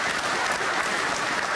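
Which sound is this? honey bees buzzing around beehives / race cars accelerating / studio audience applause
studio audience applause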